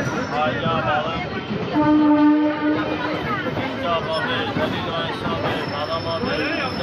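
A crowded passenger train pulls out of Sealdah station, its horn sounding in a sustained blast amid rumbling carriages and a busy babble of people talking.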